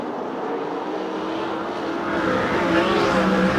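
USAC/CRA sprint cars racing at Perris, a steady loud engine roar from the pack that swells slightly toward the end, no talk.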